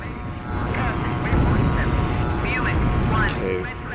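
A fighter plane engine roars steadily in the flight combat game Strike Fighters 2, a loud continuous jet drone that swells slightly midway, with a voice talking over it.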